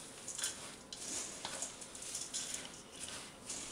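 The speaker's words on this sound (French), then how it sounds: "Et je vais utiliser ma cuillère en bois pour bien mélanger." A wooden spoon stirs oat cookie dough for vegan oat-and-raisin cookies in a bowl, giving soft, steady scraping and knocking strokes close by at low volume, with no talking.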